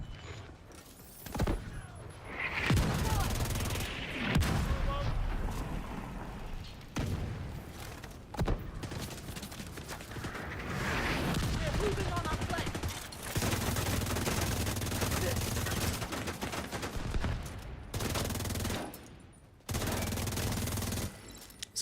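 Dense gunfire and mortar fire in The Division 2, heavy sustained bursts of automatic shots and thudding blasts, loud and nearly continuous with brief gaps, layered over in-game combat effects.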